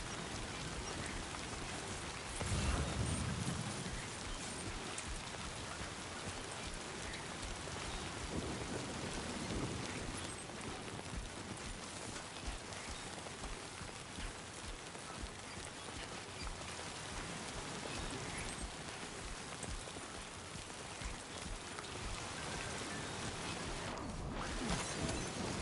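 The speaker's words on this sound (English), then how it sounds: "Looks like the timefall's been pretty relentless." Heavy timefall rain in the video game Death Stranding 2, a dense, continuous downpour hissing over surfaces, with a low rumble like thunder near the start and occasional brief bursts.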